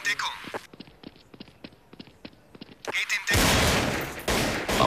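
Counter-Strike: Source gunfire from a competitive match at the EPS Summer Finals 2012 pops in a quick series of sharp, fairly faint shots. Commentators talk loudly over it and around it.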